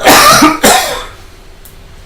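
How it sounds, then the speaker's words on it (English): Two loud, close coughs in quick succession, followed by quiet. "Sorry, just had a cough."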